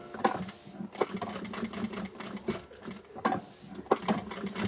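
A sewing machine stitches a seam along the edge of a bag's lining, running in short bursts of rapid mechanical clatter with brief pauses between them, close and clear.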